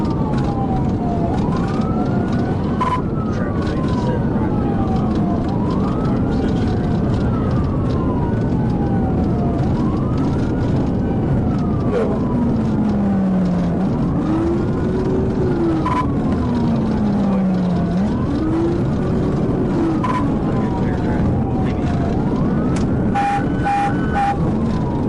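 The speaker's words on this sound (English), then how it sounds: "suddenly accelerated to about 100 miles per hour when Williams sounded the siren" A police car siren wails during a high-speed chase, sweeping up and down in steady cycles, loud and continuous over road noise, with a second, lower siren joining partway through.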